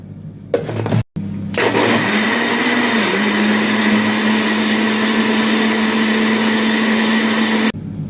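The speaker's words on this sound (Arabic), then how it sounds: "وهضربهم في الخلاط" Kitchen blender whirring loudly and steadily as it purees carrots, garlic and other vegetables with water, starting after a brief stop-start and running continuously before cutting off near the end.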